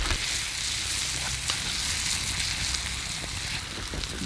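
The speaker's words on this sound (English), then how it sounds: "I just got a small but thick grilling steak. Throw that on the grill." A small but thick grilling steak sizzles steadily on a very hot grill, a dense, even hiss that stays loud and close throughout with no talking.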